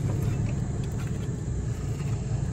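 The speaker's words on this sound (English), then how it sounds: "Spins over without a problem." A 1945 Allis-Chalmers WD tractor engine cranking over with a starter that had been stuck, a steady loud mechanical rumble spinning without firing, close and continuous with no speech.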